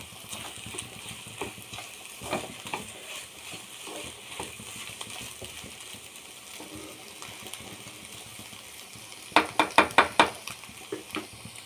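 Egg masala being stirred in a frying pan, with a faint sizzle and scraping that runs throughout, ending in a quick burst of sharp clinks and knocks from a spoon striking the pan.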